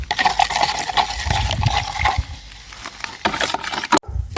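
Water sloshes and scrapes in a bucket as fertilizer is stirred briskly into it, with splashy rustling and a few knocks, close and fairly loud.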